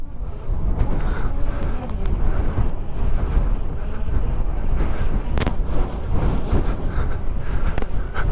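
Steady wind roars and buffets the microphone outdoors during a drone test flight, a loud continuous rumble with gusty swells and no clear voices.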